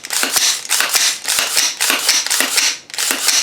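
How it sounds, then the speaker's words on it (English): A gun being reassembled after cleaning: a quick series of crisp metallic clicks and snaps in an uneven rhythm, close and loud, with no talking. "Put the gun back together"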